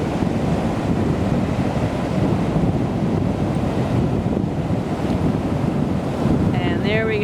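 Ocean waves and gusting wind on the Atlantic shore at Marineland, Florida, a continuous loud roar of surf with heavy wind buffeting the microphone, no talking.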